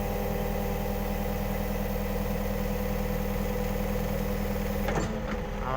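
A tracked excavator's diesel engine runs at a steady, loud drone with a constant low hum as the upper body swings back, then a brief clatter and shift in tone near the end, with no talking.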